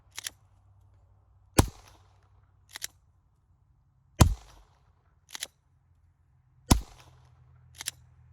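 Suppressed gunshots from .45 caliber guns fitted with a Freakin 45 suppressor, three sharp loud reports roughly every two and a half seconds, each followed by a fainter metallic click, with no talk.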